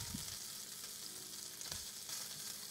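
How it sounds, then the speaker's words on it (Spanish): Bacon fries over high heat, a dense, even crackling sizzle with a soft stirring bump or two. The sound is close but fairly quiet, and no one speaks. "no queremos que el tocino empiece a soltar juguitos, sino que se fría"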